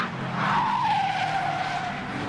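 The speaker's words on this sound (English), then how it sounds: "Squeal of tyres as the machines head through into paddock." Racing sportscars in a Saker Sportscars championship race let out a loud, sustained tyre squeal that slides slowly downward in pitch over engine noise as they head through into the paddock.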